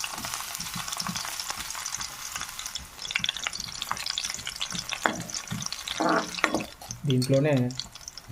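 Garlic frying in hot oil in a pan sizzles steadily throughout, with a few stirring clatters and a louder burst of spattering near the end, partly under a short spoken word.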